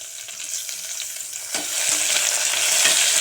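Mint leaves sauté in hot oil for a spicy mushroom biryani, producing a close, steady sizzle that swells louder halfway through as they are stirred, with no voices.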